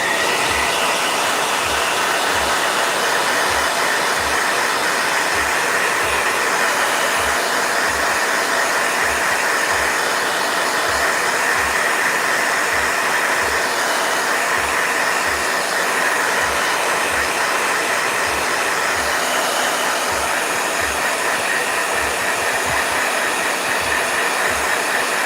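A blow dryer runs steadily and loudly throughout, a continuous breathy roar with a faint periodic flutter, used on a dog named Arwen.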